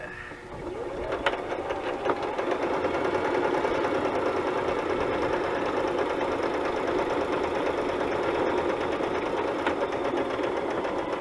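A sewing machine stitches fabric in a journal-making craft session, giving a steady, continuous mechanical whir and rapid needle clatter close by for about eleven seconds without a break.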